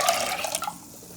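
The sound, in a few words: strained water poured into spinach soup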